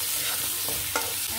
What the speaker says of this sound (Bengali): এটাকে সুন্দর করে একটু কষিয়ে নেব।